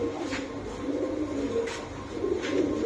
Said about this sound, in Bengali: এই যে কবুতরগুলা, একটা হোয়াইট ডেনিশ